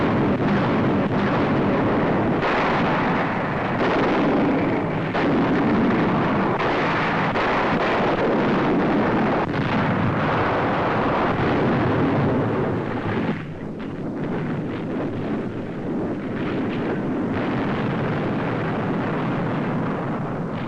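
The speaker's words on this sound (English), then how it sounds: "Some bearing artillery and rocket guns already opening fire." Artillery and rocket guns firing from landing barges off the D-Day beaches, 1944 newsreel, a dense, loud, continuous roar of rumbling blasts and noise throughout, with no clear voices.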